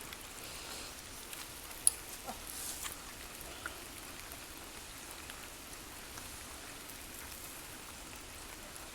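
Steady, faint rain falls outdoors in Thailand at an elephant keeper's site where durian trees are being planted, with soft continuous patter and a few sharper drips, and no voices.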